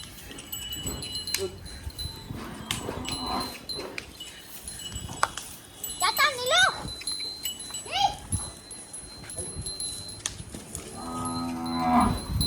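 Loose cows moo several times at close range amid farmyard bustle, with a dog and some clinking and jangling in the background.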